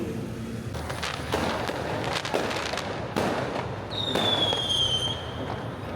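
Fireworks crackle and pop on Malam Raya in Kampung Baru, Kuala Lumpur, as a rolling series of bangs over a busy night backdrop, ending with a long rising whistle from a rocket.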